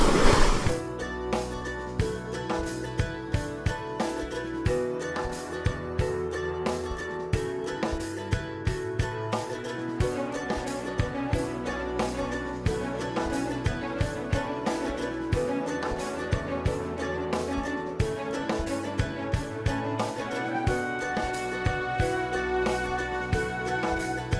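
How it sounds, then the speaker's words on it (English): Ocean waves break and splash on a rocky shore close to the listener, a steady roar of surf with repeated sharp spray bursts and sloshing throughout. "I've been hit by another wave on the side, splash from this little spot here."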